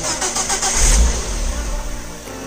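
A rebuilt Volvo car engine starts and revs up, a loud low rumble swelling in the first second then settling into a steady run.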